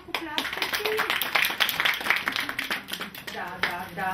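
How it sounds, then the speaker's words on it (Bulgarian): A class of children clap their hands together in a Bulgarian literacy lesson, a dense, steady patter of many small hands lasting the whole stretch, with voices calling out over it. "Браво, ръкопляскайте!"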